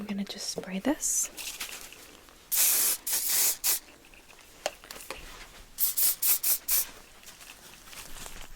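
Several short bursts of hairspray hiss, some long and some quick in a rapid series, with quiet rustling and faint movement between them.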